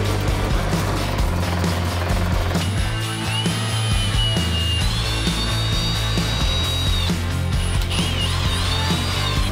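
A power tool whirs steadily with shifting pitch and whining tones, motor noise dominating, consistent with a drill boring into material.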